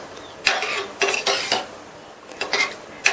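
A spoon clinks and scrapes against a pot while lentil tamarind curry is stirred, giving several sharp metallic taps in an uneven rhythm, close and alone.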